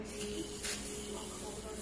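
An aerosol can sprays oil onto the brake line of a wheelie bike, a close soft hiss running throughout with a brighter burst near the start, under faint background noise.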